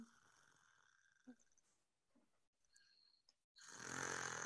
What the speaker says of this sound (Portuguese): Nossa, como ele ronca.